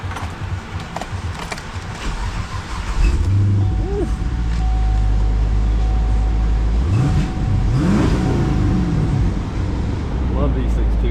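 A 2013 Camaro 6.2L V8 with 82,350 miles at a salvage yard starts and settles into a loud, deep idle, then revs in two rising-and-falling bursts, close up, while people talk over it.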